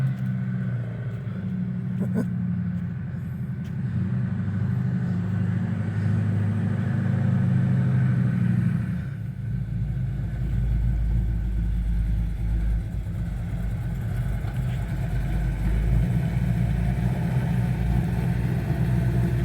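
A car comes up a residential street toward a driveway, its engine rumbling low and growing heavier partway through, close and continuous, with a voice talking faintly over it.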